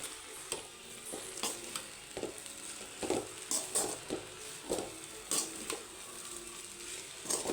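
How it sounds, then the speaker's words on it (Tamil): Egg parotta is stirred in a frying pan, a soft continuous sizzle broken by repeated scraping and tapping strokes of a spatula at an uneven rhythm, close and moderately quiet. "புரோட்டாவை பட்டுன்னு போட்டேன் போட்டுட்டு ஒரு கிளறு கிளறு"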